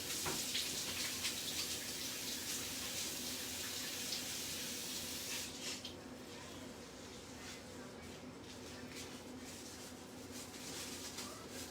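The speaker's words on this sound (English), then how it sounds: "Now let me wash my hands." Hands are washed under a running kitchen tap, making a steady, faint hiss of flowing water that shifts slightly in tone partway through.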